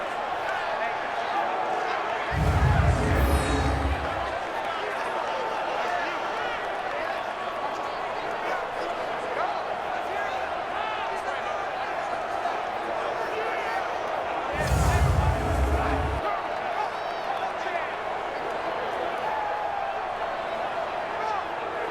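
A stadium crowd roars in Madden 20 during a Seahawks at Bills game ahead of a big third down. It is a steady wash of noise under ongoing play-by-play commentary, with two brief heavy thumps.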